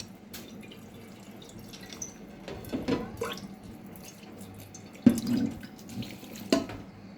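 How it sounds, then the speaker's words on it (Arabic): Half-boiled pasta water drains from a pot into a sink, with uneven splashing pours and drips coming in several close bursts, the strongest near the middle and end, and no talking. "انا سلقتها نص سليقه اهيت وهصفيها بقى"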